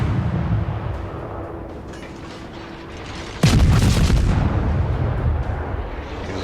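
Warship guns fire in World of Warships, a dense rumbling barrage with a sharp, loud salvo cracking in midway and a long booming roll of echoing shots trailing after, heavy low rumble throughout.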